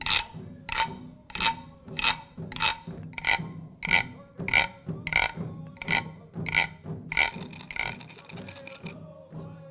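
Replica Mississippian rattling bow from an Arkansas–Missouri bluff shelter, played as a rhythm instrument in a steady run of about a dozen sharp rattling strikes, close and loud, ending in a denser buzzing shake.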